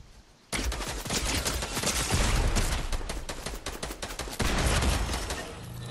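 Rapid bursts of gunfire from the Fortnite video game ring out loud and close, in dense overlapping volleys that run for several seconds, with a brief lull before the shooting resumes.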